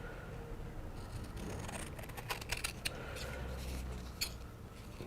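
Scissors cut fabric with bonded web along a marked line, a few soft, close crisp snips and scratchy clicks over quiet room noise.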